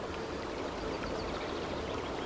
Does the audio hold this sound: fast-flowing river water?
yes